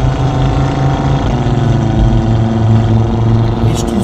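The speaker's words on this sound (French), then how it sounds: "On entend toujours le son de l'échappement, hein." Exhaust of a 2018 Audi RS3, a loud steady droning rumble held at near-constant pitch, close by and continuous without breaks.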